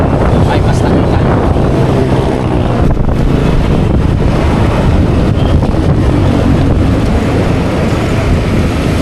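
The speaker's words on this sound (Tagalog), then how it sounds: "asahan natin ang malakas na hangin sa dadaanan natin" Strong wind roars steadily over the microphone while riding through heavy rain on the road to Navotas, a loud, unbroken buffeting rush throughout.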